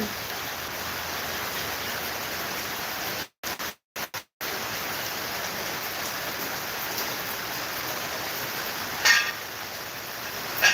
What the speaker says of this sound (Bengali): বৃষ্টিটা আরো বাড়লো যেন